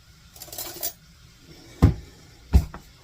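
A spoon clinks against dishes while bacon cheddar egg salad is made for sandwiches: two sharp, close metallic knocks about a second apart, after a softer clatter of handling at the start, with no talk.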